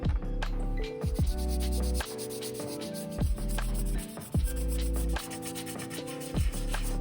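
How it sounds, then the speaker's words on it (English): A table saw's metal top is scrubbed by hand with steady back-and-forth rubbing strokes, close and fairly loud, with short pauses between passes and no talking. "That's why I'm trying to do most of it just by scrubbing."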